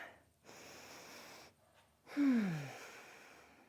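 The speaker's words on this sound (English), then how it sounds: "Deep breath in." A deep yoga breath: a soft inhale, a pause, then a longer audible exhale with a low voiced sigh at its start, close and quiet.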